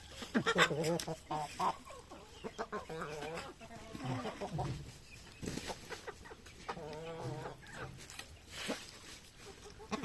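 A rooster at the Palani Murugan temple clucks repeatedly in short bursts as it is fed, close and fairly loud, with other fowl noise and people's voices in the background.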